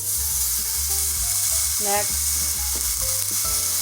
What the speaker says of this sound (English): we're going to preheat our pan and we're just going to put our ground beef in